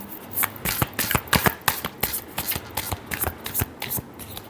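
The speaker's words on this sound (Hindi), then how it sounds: "last shuffle" Tarot cards are shuffled by hand in quick, crisp riffling bursts, close and clear, with a steady rhythmic flutter of cards slapping together and no talk.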